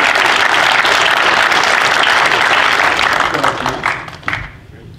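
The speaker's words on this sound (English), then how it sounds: "he deserves a huge round of applause for everything" Loud, dense audience applause at a reunion project welcome event, sustained clapping that thins and trails off near the end.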